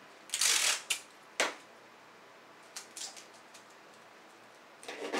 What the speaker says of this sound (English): I'm just going to kind of gently tape it down